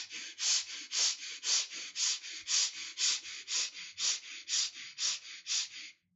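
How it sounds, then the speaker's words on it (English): Quick, short rhythmic breaths of a breathing exercise, about a dozen forceful nasal puffs in a steady fast pattern, close and alone with no talk. "Continue breathing, quick, short breath, expansion and contraction of the ribcage."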